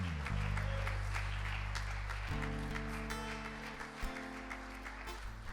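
Congregation applauding during an evening church service, dense clapping running throughout over sustained low organ or keyboard chords.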